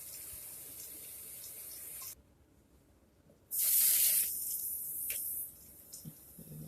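Figs being rinsed under a running tap in a kitchen sink, a steady hiss of water that stops briefly, then returns as a louder, brighter spray for a couple of seconds before settling back.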